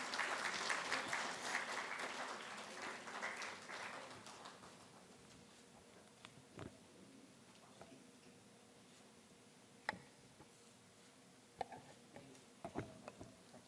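Applause from an audience of dignitaries and guests at a railway modernization conference inauguration, loud and dense for the first four seconds, then thinning into a few scattered claps and faint ticks in a quiet hall.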